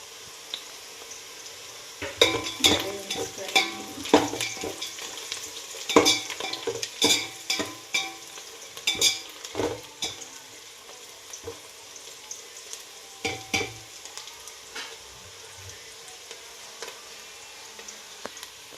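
Cinnamon, cloves and bay leaf fry in hot oil in a metal pan as a spoon clatters and scrapes in quick bursts of stirring, then pauses, over a faint sizzle with no speech.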